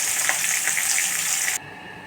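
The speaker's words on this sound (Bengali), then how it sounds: "এরপর আমি ওই তেলে কাঁচকলাগুলো ভালো করে ভেজে নেব।" Raw banana pieces frying in hot oil in a kadai, a close, steady hiss and crackle with faint pops that stops abruptly near the end, leaving a quiet room.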